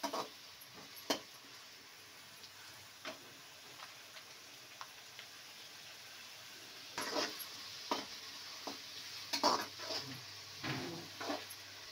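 Vegetables for fried rice with coriander and salt cooking in a pan, a faint steady sizzle under intermittent clicking stir strokes that come faster and louder toward the end, close and with no speech.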